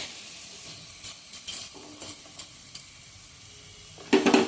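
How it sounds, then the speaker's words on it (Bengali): Onion paste fries with spices in a pan for a fish chaap, giving faint, scattered sizzles and a few short scraping stirs, with a louder burst of sizzling near the end and no one talking. "পেঁয়াজটাকে হালকা করে একটু ভেজে নেব মশলার সঙ্গে"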